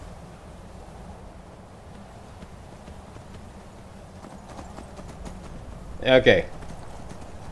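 Quiet ambience in the video game Skyrim, then a brief burst of horse hooves clip-clopping near the end; a voice says a single word.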